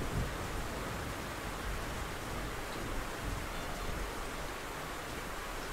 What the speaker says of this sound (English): Right whenever I sit down to record, it's like, okay, time to start raining again.